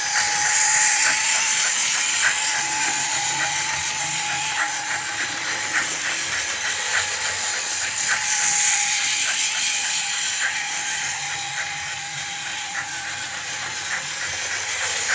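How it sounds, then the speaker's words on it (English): Steady hissing steam with faint rhythmic puffing from a small TOMY Steam Along Thomas toy train, continuous and close, with no talking. "he also makes puffing sounds, and every once in a while he whistles on his own"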